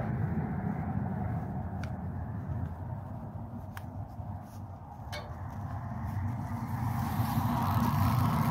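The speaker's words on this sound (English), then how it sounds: "There's my truck and all the cars going by on Highway 6." Cars and trucks on Highway 6 heard from a mountain trail, a continuous distant low roar of traffic that swells and fades gently as vehicles pass, with a few faint clicks nearby.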